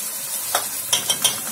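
Large batch of onions frying in a pan, a continuous soft sizzle with four brief stirring scrapes in the second half, close and moderately loud, no talking.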